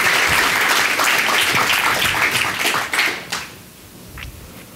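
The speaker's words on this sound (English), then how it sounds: "Or more applause, yeah." Audience applause at a tech conference talk fills the room with dense, steady clapping, then thins out and fades to a few scattered claps near the end.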